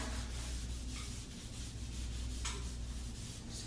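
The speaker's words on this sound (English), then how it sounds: "I'm wiping them down now with WD-40" A rag wiping WD-40 across cast iron table saw surfaces makes steady, soft rubbing swishes, with a couple of brighter strokes, close and quiet, no voices.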